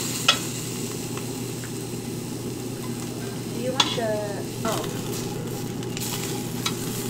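Meat sizzles steadily on a Korean BBQ grill in a restaurant, with a continuous close hiss, occasional sharp pops and the scrape of utensils, while voices murmur in the background.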